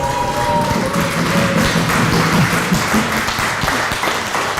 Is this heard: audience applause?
yes